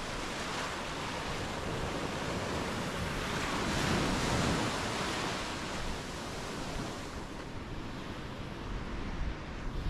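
Ocean surf at a Maui beach with strong rip tide, a continuous broad roar of breaking waves swelling and easing, with some wind buffeting and no talk.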